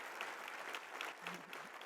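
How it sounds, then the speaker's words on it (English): Audience applause at a hotel technology organization's keynote, a steady wash of many hands clapping at moderate volume, sustained throughout without pause. "So round of applause for HITEC for everything that they do to advance their mission."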